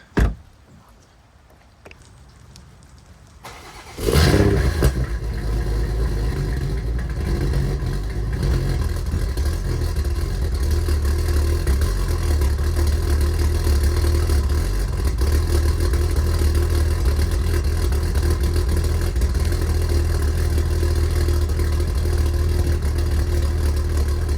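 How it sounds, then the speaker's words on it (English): A sports car engine cold start: it cranks and catches after a quiet moment, then settles into a loud, steady idle rumble that continues without a break. "I'm actually going to do a cold start for you guys."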